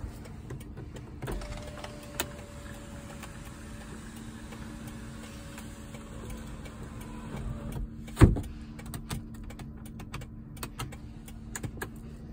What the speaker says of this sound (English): I'll show you the roof, the power sunroof